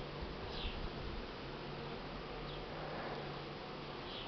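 A honeybee swarm pours out of north-facing hive entrances around midday, a steady, dense buzzing drone that holds evenly throughout at moderate distance, with no voices.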